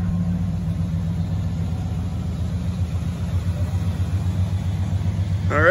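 A 1982 Cadillac Fleetwood Brougham idles with a low, steady engine rumble, then the engine note rises briefly at the very end as the car begins to pull away.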